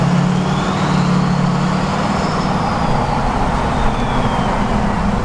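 A twin-turbo LML Duramax diesel with a large fixed-vane S480 turbo idles in a deep, steady rumble, with a faint turbo whistle rising and falling over it, close and constant without voices.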